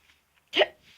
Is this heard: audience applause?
no